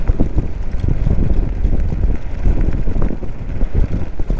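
Steady outdoor wind buffeting the microphone with a low, rumbling roar throughout, gusting slightly, during a test drive of a Nanrobot D6+ RC robot vehicle with new wheels.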